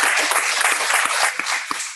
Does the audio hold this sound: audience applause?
yes